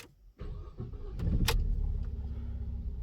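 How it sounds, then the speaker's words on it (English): A car's ignition switch turns to on inside a parked vehicle with accessories off: a key click followed by a steady low electrical hum and whirring that continues throughout, fairly quiet and close. "Set the ignition switch to on."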